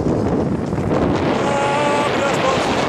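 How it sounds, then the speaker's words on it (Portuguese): Strong wind buffets the microphone during an outdoor ride, a constant loud roar of gusting air with faint voices shouting underneath. "Vento, ventania!"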